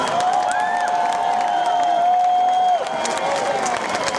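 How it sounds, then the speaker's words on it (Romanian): Audience applause and cheering for a visiting Spanish performance company at a live pilot show, sustained crowd clapping with shouts and a whistle-like tone riding above it, then easing slightly toward the end. "aplauze pentru compania Voala din Spania"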